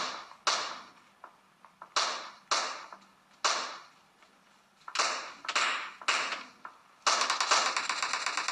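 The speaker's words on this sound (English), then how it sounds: "Oops, somebody is already shooting." Gunfire in a mobile shooter game, around a dozen sharp shots in irregular bursts with short decaying tails, ending in a rapid string of repeated shots, no voices.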